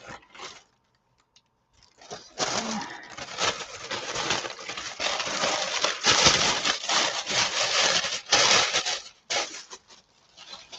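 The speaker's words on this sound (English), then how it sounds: "That tissue makes a fun noise too." Tissue paper torn by hand for a mixed-media journal, heard as several close, rough ripping bursts in a row after a quiet start, with short pauses between tears and no voices.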